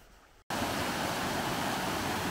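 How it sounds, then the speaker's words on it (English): Water of the River Derwent rushes over rocks, a loud, steady broadband roar that starts abruptly after a brief quieter moment and continues unbroken nearby. "It's always nice to see and hear water rushing over the rocks."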